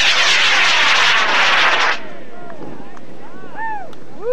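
High-power model rocket at the LDRS 22 launch in Argonia, Kansas, roaring loudly for about two seconds after ignition and then cutting off, leaving faint wind and distant chirps.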